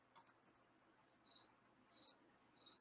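A crickets sound effect plays from an Elgato Stream Deck: three short, bright chirping bursts spaced about half a second apart, fairly faint over a low background hiss, with no voices.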